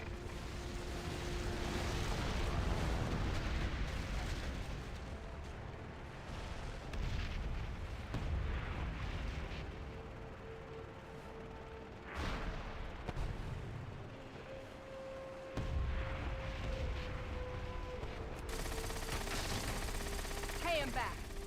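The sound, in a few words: torpedo rockets and gunfire in a video game battle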